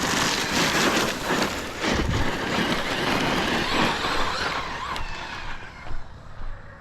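Traxxas Maxx V2 RC monster truck on 6S power with a Proline Badlands body, running fast over freshly mowed grass, giving a steady close whirring motor and tyre roar with gritty churning that fades near the end.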